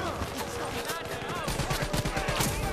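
Rapid gunfire bursts and a grenade blast rattle through a Call of Duty Black Ops 3 firefight, dense and loud, with a voice talking over the shooting.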